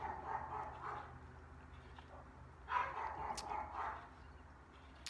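A dog barks in a few muffled, faint bursts, somewhat distant, with low background noise throughout and no clear speech.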